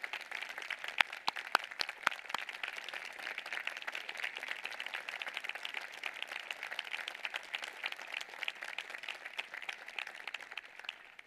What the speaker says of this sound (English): I would like you to all stand for a round of applause for the parents and grandparents.